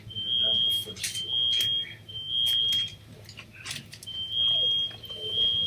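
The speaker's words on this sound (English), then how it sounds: "That smoke alarm is connected to our stupid home security system" Shrill, piercing beeps from a home smoke alarm connected to a security system, tripped by burned food, come in patterned groups of three while people talk over and between them.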